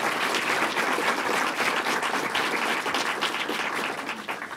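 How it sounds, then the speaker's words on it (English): An audience at a New York state government policy event breaks into sustained applause, many hands clapping densely and loudly before easing off toward the end. "Give her a round of applause."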